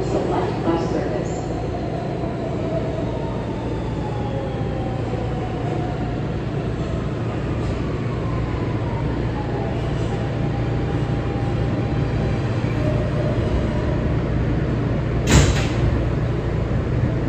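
An R160B Siemens subway train rides on the F line, a steady rumbling roar of wheels and motors with faint whining pitch sweeps and a brief sharp clank near the end.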